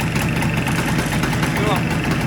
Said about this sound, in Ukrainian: А ну попробуємо запустити так, як запускають на відосах. Запускається